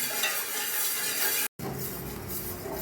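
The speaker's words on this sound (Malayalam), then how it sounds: "ഇനി കൈ വിടാതെ ഇളക്കിക്കൊണ്ടിരിക്കണം." Amrutham podi payasam being stirred continuously in a pot on the stove over medium flame, a steady scraping and swishing with a faint simmer beneath, cut by one brief gap of silence midway.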